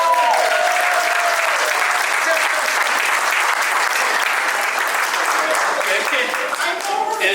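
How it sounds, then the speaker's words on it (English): Sustained applause from a gathered audience at a Homeboy Industries meeting, a dense, steady wash of many hands clapping that fills the whole stretch at an even level, with some voices mixed in among the crowd. "Let's give Angel a round of applause."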